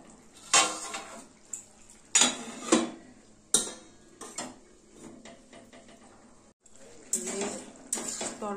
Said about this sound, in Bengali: আবার একটু নেড়ে চেড়ে দিয়ে ঢেকে দেবো।